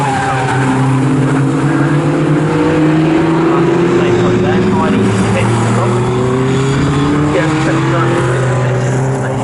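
A Class A sports special race car circles Snetterton circuit, its engine droning steadily and loudly as it passes, with a race commentator talking over the whole stretch.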